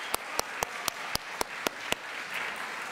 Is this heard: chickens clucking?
no